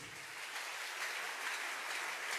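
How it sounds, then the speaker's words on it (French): A congregation applauds after a scripture reading, with a dense, even wash of clapping that stays quiet and steady throughout. "Acclamons la parole de Dieu."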